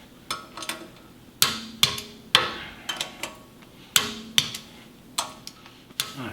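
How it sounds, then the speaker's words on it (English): A torque wrench tightens bolts to 35 foot-pounds on a reconditioned Dana 30 front axle from a 1972 International Scout I, sharp metallic clicks in short irregular clusters, close by with no talking. "we're torquing these to 35 foot-pounds"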